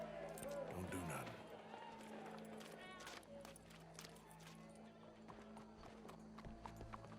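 Horse hooves clip-clop steadily in the Red Dead Redemption 2 video game, a brisk rhythmic trot at close range over a low steady hum, with talk and a faint crowd mixed underneath.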